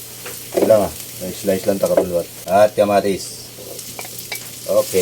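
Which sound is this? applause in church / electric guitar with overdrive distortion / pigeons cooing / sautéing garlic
sautéing garlic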